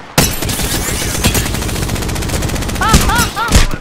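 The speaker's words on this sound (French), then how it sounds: "Je suis sous les tirs." Rapid automatic gunfire rattles steadily through a firefight in the battle royale game Apex Legends, with louder bursts and a few chirping electronic effects near the end.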